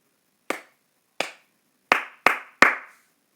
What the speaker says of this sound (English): Look at these 3 rhythms. Can you tell me which one I'm clapping?